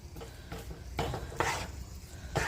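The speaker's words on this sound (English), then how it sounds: "I just kind of stir everything around in here." Meat being stirred around a cooking pan during meal prep, with repeated scraping and clinking strokes of a utensil against the pan at close range, over a faint steady sizzle.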